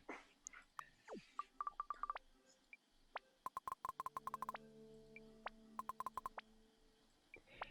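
A phone is dialed in the video game Mutazione, with several quick bursts of short rapid keypad tones and held dial tones, faint, over soft background arcade and game ambience.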